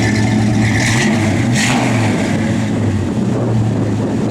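The engine of a 1967 Chevrolet C10 pickup truck runs loud and close, a steady low rumble with a couple of brief revs partway through.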